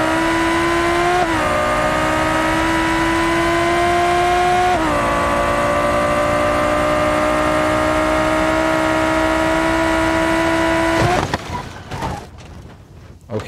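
A race-mode car engine in the BeamNG driving game revs hard and steadily, its pitch holding high with brief dips at shifts, loud and alone until it cuts off near the end into scattered crash noise.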